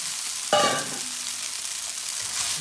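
Cooked spaghetti stirred with scrambled egg in a hot pan sizzles steadily, with a sharp scrape and clatter of the utensil near the start, close and clear.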